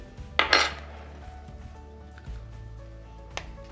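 The handle of a small spoon scraping and tapping inside a container, a short scratchy burst near the start followed by faint clinks and a final light tap, with no talk.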